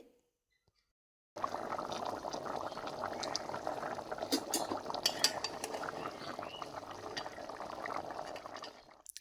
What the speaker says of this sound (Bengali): এবার মাছ দিয়ে একটু ফুটিয়ে নিয়ে নামিয়ে নেব।